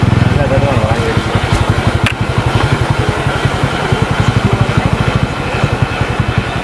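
A motorcycle engine chugs in a fast, regular thumping rhythm while riding, loud and close, with voices faintly mixed in.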